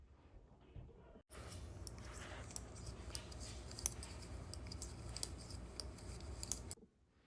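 Scissors snip through worsted weight knitting yarn, a steady run of small sharp clicks and cuts, fairly close and quiet, with no talk over it.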